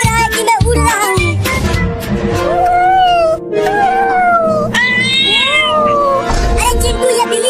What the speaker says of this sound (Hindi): ये बिल्ली इतना बोल क्यों रही है, वो भी हमारे पास आकर।